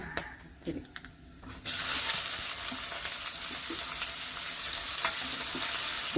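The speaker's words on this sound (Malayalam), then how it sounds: "ഒരു സ്പൂണ് വെളിച്ചെണ്ണ ഒഴിച്ചേ ഇതൊക്കെ ഗ്രാമ്പു പട്ട ഏലക്ക പെരിഞ്ചീരകം ഇടുന്നുണ്ട്" Whole cloves, cinnamon, cardamom and fennel seeds dropped into hot coconut oil for a vegetable stew, with a few soft clicks and then a sudden, steady sizzle that keeps going to the end.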